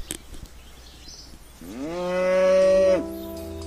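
A prize cow in the RuneScape video game gives one long, loud moo that rises and then holds steady for over a second before stopping abruptly, following quieter game background sounds.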